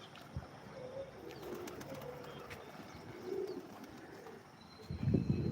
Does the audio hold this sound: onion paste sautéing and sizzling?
no